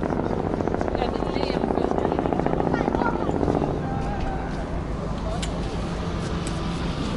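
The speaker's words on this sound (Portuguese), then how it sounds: "O helicóptero vem aí." A helicopter flying overhead thrums loudly with rapid rotor chop for a few seconds, then fades into general London street noise while people talk nearby.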